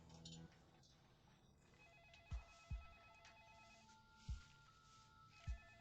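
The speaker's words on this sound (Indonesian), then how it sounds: "Telepon ibu berdering." A mother's home telephone rings quietly in a repeating electronic pattern, with a few soft low thumps nearby and no talking.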